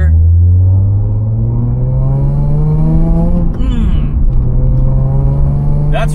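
A 2008 Nissan 350Z NISMO's naturally aspirated V6 and NISMO-tuned exhaust rev up in second gear: a loud, close engine note climbing steadily in pitch, with a brief dip midway before it pulls on again.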